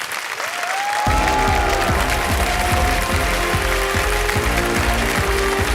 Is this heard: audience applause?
yes